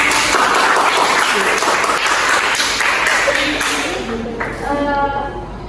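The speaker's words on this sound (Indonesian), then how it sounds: "Berikan aplaus." Audience applause at an Indonesian health-promotion session on gout, a sustained, dense wash of clapping that holds loud and steady before thinning toward the end.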